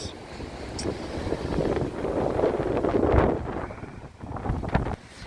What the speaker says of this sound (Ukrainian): такий вітер, боже, така погода, жах